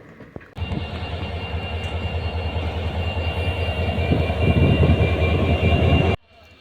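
A train crosses the longest bridge on the Beed–Parli railway line, a steady, loud rolling rumble with wheel clatter that starts abruptly and holds for about six seconds before cutting off.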